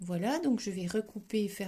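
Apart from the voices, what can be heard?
No everyday noises stand out.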